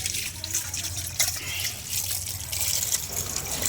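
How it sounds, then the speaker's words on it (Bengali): Radish greens are rinsed under running water, a steady splashing trickle with drips and small sloshes as the leaves are handled, close and moderately loud, no voices. "মূলা শাকটা একটু ভালো করে ধুতে হয়, নইলে শাকে মাটি লেগে থাকে"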